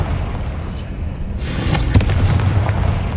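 A Confringo fire spell explodes in Hogwarts Legacy on PS5, a sharp bright blast bursting in around the middle and leaving a loud crackling rumble that carries on to the end.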